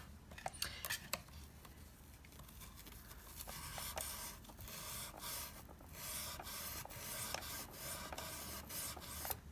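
Guitar frets being rubbed to strip off corrosion, giving a steady close scrubbing rasp broken by sharp little clicks and taps, with no talking.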